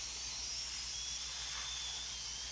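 A steady, fine airbrush hiss of thinned paint sprayed onto a scale-model chain link fence, constant and close, with no other sounds.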